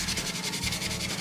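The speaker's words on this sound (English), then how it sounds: "use a sanding sponge by Tamiya 600 and start to sand it, the primer" A Tamiya 600 sanding sponge scrubs over primer on a scale model car, giving quick rhythmic close-up rasping strokes in a steady back-and-forth pattern.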